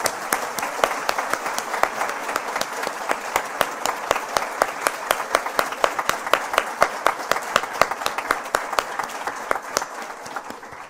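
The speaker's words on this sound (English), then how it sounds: "Let's give them all a big round of applause." Sustained audience applause at a women's symposium fills the room, dense and steady, with many hands clapping evenly throughout.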